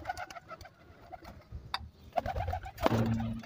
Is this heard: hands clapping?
no